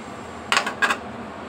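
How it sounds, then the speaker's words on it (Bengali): A metal lid set down on a cooking pot of mixed vegetables coming to a boil, two quick clinks about a third of a second apart over a low kitchen hum. "তো ঢাকনা দিয়ে আমি ঢেকে দেব"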